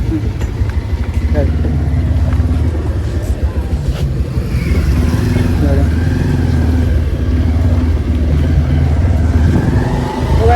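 A motorcycle engine rumbles steadily while riding, a constant close drone running the whole time with people talking over it.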